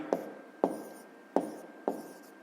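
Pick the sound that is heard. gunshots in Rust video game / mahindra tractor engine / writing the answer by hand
writing the answer by hand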